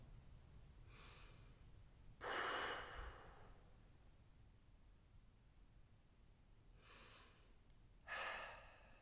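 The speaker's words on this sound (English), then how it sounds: "Keep breathing, regaining the rhythm." Deep rhythmic breathing during a calming release exercise, slow breaths in and out at regular intervals, close and quiet with long pauses between them.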